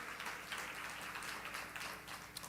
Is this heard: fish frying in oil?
no